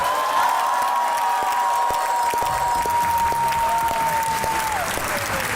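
A studio audience on a Pakistani comedy talk show applauds steadily to welcome guests, dense clapping sustained throughout with a held tone and crowd noise beneath it.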